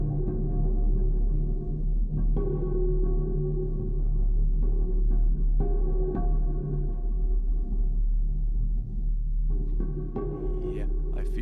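Quiet wooden mallet ensemble playing a soft, busy, uncanny texture, a steady low wash of sustained woody tones with scattered light knocks throughout.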